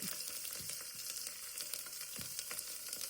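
Onion sautés in a pan with cinnamon, cloves, cardamom, tomato, green chilli and ginger for a mutton stew. It makes a faint, even sizzle with light stirring taps.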